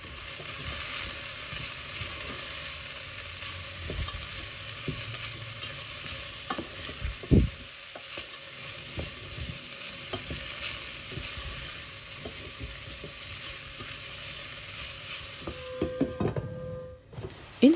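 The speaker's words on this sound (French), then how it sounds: "J'y ajoute ensuite les choux blancs coupés en lamelles et je fais revenir le tout." White cabbage cut into strips stir-fries in a pan for an Asian chicken and vegetable fried rice, giving a long steady sizzle with occasional scrapes and knocks of the utensil, close and continuous, and a few louder clatters near the end.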